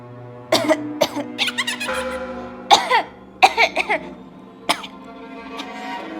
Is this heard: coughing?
yes